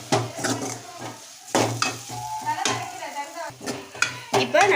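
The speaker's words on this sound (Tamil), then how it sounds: "இப்போ இனி கொஞ்சம் இப்படியே கிண்டி விட்டு ஒரு தொக்கு பதத்துக்கு வந்துடும்" Thick chicken curry masala being stirred in a pan, with repeated scraping strokes and spoon clatter over a low sizzle and a steady low hum.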